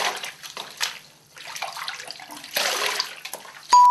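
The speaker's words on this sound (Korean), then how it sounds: "역시 미온수에다가 머리를 다시 한번 헹궈 보도록 하겠습니다" Lukewarm water splashes and runs in uneven bursts as a long-hair wig is rinsed, close and short, with a brief pause in the middle.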